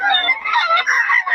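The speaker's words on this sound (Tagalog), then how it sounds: "Manok ni boss Ga. 4-4." A rooster from a farm gives one close, loud crow lasting just over a second, its strained call rising and wavering before cutting off.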